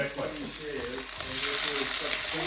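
Frozen shrimp stir-fry with cashew nuts in a hot pan, giving a loud, continuous sizzle that grows stronger, with brief stirring and a voice faintly underneath.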